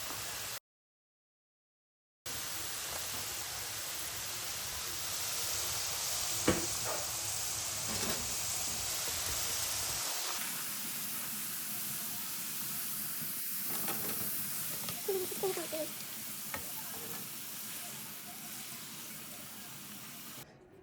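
Thin finger fish frying in hot oil, a steady sizzle and hiss running throughout with a few brief clinks, dipping quieter partway through.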